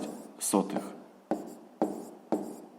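Numbers being written by hand on paper during a 6th-grade math exercise, heard as a few short scratchy pen strokes close by, spaced about half a second apart.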